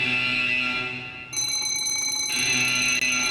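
Alarm bell and prison alarm sounds from a Minecraft mod: a loud, steady electronic ringing tone that shifts into a higher, busier alarm pattern midway, then returns to the first tone, continuous and close.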